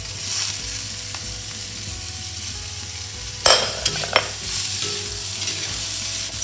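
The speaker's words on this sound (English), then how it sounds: "Stir it for a while until the onion is a bit soft." Onion, ginger and garlic fry in a pan with a constant hissing sizzle, a low hum beneath, and a few clanking stir strokes midway, close and steady, with no voices.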